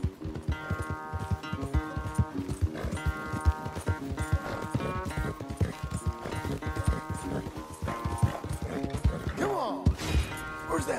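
Rhythmic hoofbeats of a galloping horse in Red Dead Redemption 2 pound steadily beneath a layer of tonal music, with a brief creaking or whinny-like sound near the end.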